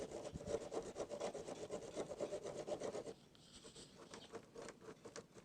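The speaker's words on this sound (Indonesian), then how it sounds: "Kita bersihkan juga pada bagian konektor dengan sikat kawat." A wire brush scrubs a car battery connector in quick, rhythmic rasping strokes, fairly quiet and close, then softens to lighter scraping partway through.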